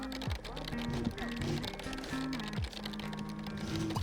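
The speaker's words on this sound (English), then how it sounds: "I love the keyboard sounds." Keys clatter in quick bursts as a computer keyboard is typed on in The Sims video game, steady clicking mixed with background music and tones.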